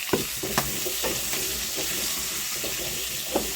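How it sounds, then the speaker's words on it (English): Irish potatoes deep fry in hot oil with a constant, dense, close hiss, broken by occasional faint clinks and stirring knocks. "We deep fry it a"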